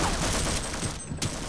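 Rapid gunfire in the video game Half-Life, a dense continuous burst of shots that stays loud and steady, with one sharper crack near the end.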